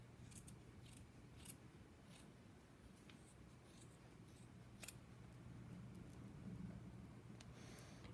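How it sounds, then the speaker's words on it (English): Scissors snip through fabric while trimming a quarter-inch seam allowance around a sewn pig softie, the quiet cuts coming as scattered faint clicks over a low background hum. "Now I'm just going to cut about a 1/4 inch all the way around."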